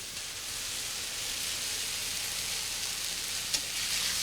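Garlic cloves and marjoram sauté in a pan over low heat, giving a faint, steady, even sizzle with one small clink near the end and no speech.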